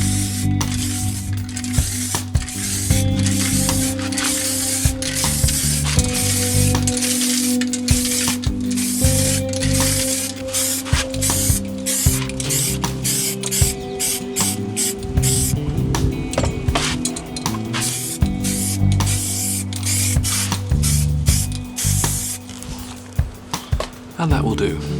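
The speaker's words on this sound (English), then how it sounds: "Let's get to some spraying." A Telecaster guitar body gets a primer coat from a spray can in repeated hissing bursts, some long and some short, with clicks and rattles of the can between passes, all close and fairly loud.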